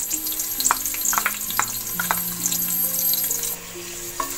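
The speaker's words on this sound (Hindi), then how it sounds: "अब हमारा ऑयल गरम हो चुका है, अब हम इसमें प्याज ऐड कर रही हूँ।" Onions hitting hot oil in a pan for aloo gosht, a bright crackling sizzle with scattered spoon taps and stirring scrapes, close and loud, a faint steady tone lingering in the background and no speech.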